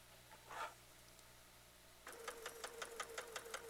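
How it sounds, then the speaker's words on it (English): Sewing machine stitching fabric, starting after a quiet pause with a brisk, rhythmic run of close mechanical stitch taps over a faint steady hum. "we're going to start sewing"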